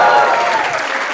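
A studio audience at a talk show bursts into brief applause, a dense close burst of clapping that fades slightly over about a second.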